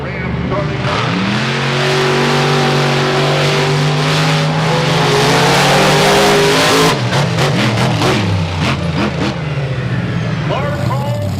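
A loud Ram racing pickup truck engine roars and revs continuously at a 4-wheel jamboree, pitch climbing through the gears, then stuttering and dropping as it eases off.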